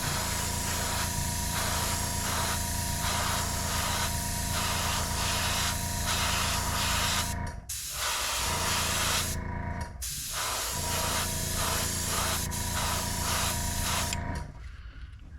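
Spray paint hissing over a stencil in long continuous bursts, close and steady, with brief breaks between passes.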